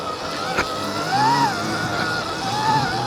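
A continuous rolling hum of car tires on pavement under a steady engine drone, with a faint whining tone rising and falling.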